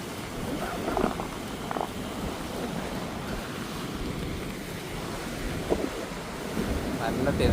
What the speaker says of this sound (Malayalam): നല്ല തിരമാല, അതിൻ്റെ കൂടെ ഇപ്പം മഴയും കൂടെ തുടങ്ങിയിട്ടുണ്ട്